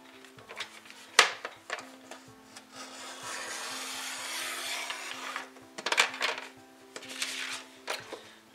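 Mauve cardstock being cut for a scrapbooking card base, a steady scraping, rubbing cut lasting several seconds with a couple of sharper snips and handling noises, close and moderately quiet with no talking.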